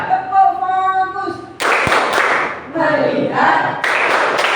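Pupils in a classroom perform a 'focus' clapping routine together, giving a few loud collective clap bursts with a short pause between, after a teacher speaks the cue and as children's voices chant along.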